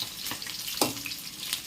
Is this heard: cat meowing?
no